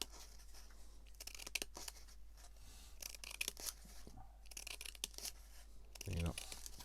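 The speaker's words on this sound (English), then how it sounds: "rather than cut, you just do one long cut" Scissors draw through paper in long continuous cuts for simple spring flower crafts, close and quiet with rustling and crinkling, and a person speaks softly in the background.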